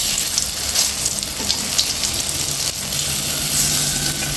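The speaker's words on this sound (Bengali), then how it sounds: "এক পাশ ভাজা হয়ে গেছে, এখন উল্টিয়ে অপর পাশও ভেজে নেব যতক্ষণ না সোনালী কালার হয়ে আসে।" Balls of raw banana kofta fry in oil over medium heat, turned to brown the second side, giving a steady, dense, close crackling sizzle with no talking.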